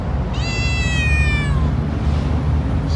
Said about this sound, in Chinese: 谁家猫啊？